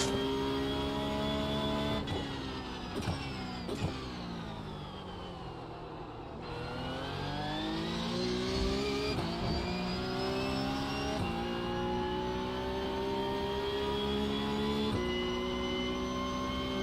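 A Porsche Cup race car in a racing video game lapping Suzuka, its engine revving high and climbing through gears with sharp shift drops, loud and steady throughout with no talk.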